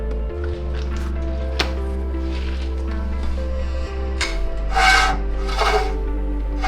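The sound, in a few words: brake shield rubbing on rotor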